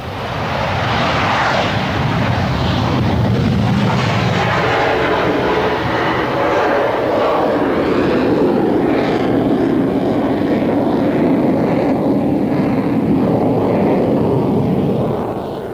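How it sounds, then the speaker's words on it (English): An F-15 jet takes off and pulls into a near-vertical maximum-rate climb, a loud, sustained roar that swells and then shifts in tone as it climbs away, with no speech. "Another F-15 takes off and, for the photographer, makes a near vertical maximum rate climb."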